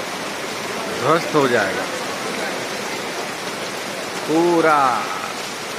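Rain pours steadily on Ravana effigies set up in Kanpur, a constant hiss throughout while someone speaks briefly over it twice.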